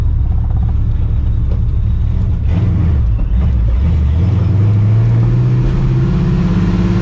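A cammed, procharged 1999 Ford Mustang GT with a new clutch cable is driven along, its engine a loud, steady low rumble whose pitch rises as it accelerates, with no talking.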